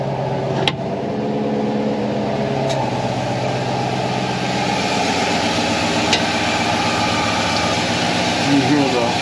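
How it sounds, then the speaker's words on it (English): A 2000 Ford F-250's 5.4-liter V8 engine idles smoothly and steadily nearby, its low rumble constant throughout with a couple of faint clicks. "So you can hear how smoothly it's running."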